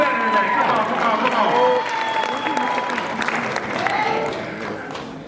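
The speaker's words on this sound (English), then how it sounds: "Y'all please give a round of applause to Miss Johnson." An audience at an Apollo show performance applauds and cheers for several seconds, a full crowd roar of clapping mixed with shouts and a voice rising over the noise.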